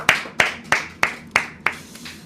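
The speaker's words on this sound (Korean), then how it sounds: "우리 먼저 감사와 영광의 박수 좀 드리도록 하겠습니다" Slow, evenly spaced clapping during a year-end Sunday worship service in a church: six crisp, fairly close claps in a steady beat, fading out at the end.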